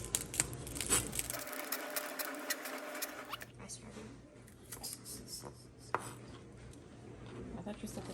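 A knife chops thick double-smoked center-cut bacon on a board in quick, close, crisp taps, with a few sharper knocks and quiet talk in the background.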